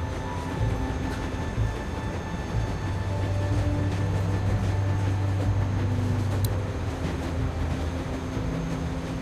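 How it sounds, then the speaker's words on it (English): A train rolling along in The Walking Dead video game, a continuous low rumble and rattle of carriages with a faint hum, steady and unbroken, with no voices. "You need to stop the train."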